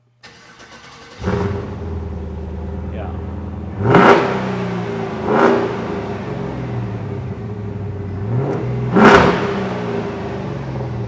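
An LT1 V8 swapped into a 1986 Land Rover Defender 90 cranks and catches, then idles with a steady low rumble broken by three sharp throttle blips. Someone speaks briefly during the idle.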